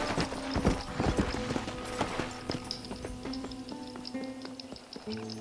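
A horse gallops in Red Dead Redemption: Undead Nightmare, hooves clip-clopping in a quick, steady rhythm close by, with scattered game effects around them.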